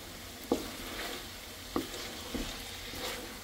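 Binagoongan pork, shrimp-paste pork, stirred in a pan with a few sharp scrapes of the utensil over a steady low sizzle, fairly faint and with no talking.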